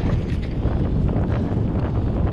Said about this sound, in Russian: когда ветер-то дует